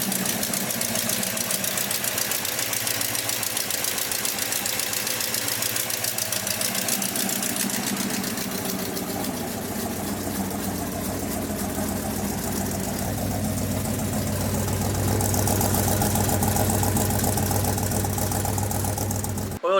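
A car engine, with its power steering pump just filled, idles steadily at close range with a low, even rumble and a faint rhythmic knock throughout, without any voices.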